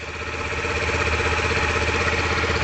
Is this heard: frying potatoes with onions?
no